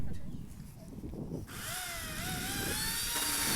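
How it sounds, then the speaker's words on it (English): A chainsaw engine starts up midway to cut branches and holds a high, buzzing whine that rises in pitch as it revs, loud and close over outdoor background noise. "if you get the chainsaw and we'll cut some more branches"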